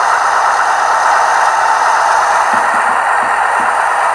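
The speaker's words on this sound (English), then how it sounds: "You're going to hear that diesel engine increase." A diesel prime mover from a model locomotive sound decoder runs with a steady, loud mid-range drone, and faint rhythmic clattering emerges partway through as it revs up.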